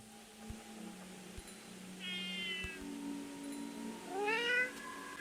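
Two cat meows in the video game The Baby In Yellow, each a short rising-falling cry, the second louder and more strained, heard over a low steady game hum with faint thumps.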